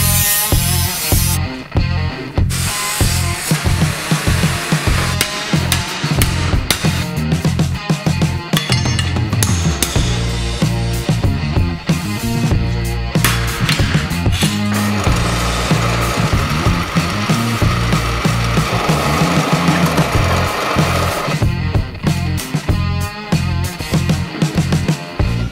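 A high-pitched angle grinder driving a bicycle wheel on a homemade electric bike whines and drones continuously, its pitch stepping up and down as it spins the wheel, with choppy rhythmic pulses throughout.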